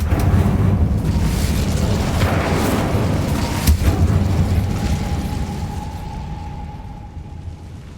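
An Incendio fire spell cast in the Hogwarts Legacy video game, heard as a loud, rumbling whoosh of flame with a sharp burst near the middle, then fading away under a thin lingering tone.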